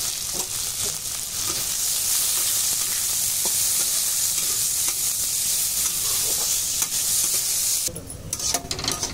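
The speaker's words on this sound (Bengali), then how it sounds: "গাজরটাও আগে ভেজে নেবো, গাজর তারপরে ক্যাপসিকামটা ভাজবো" Carrots frying in oil in a pan, a loud, close, continuous sizzle throughout, with occasional stirring clicks and a brief louder burst of scraping near the end.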